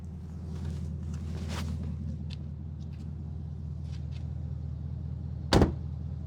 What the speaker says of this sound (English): Door closes good.